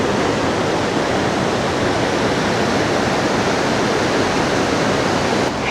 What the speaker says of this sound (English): You could hear the thunder of the water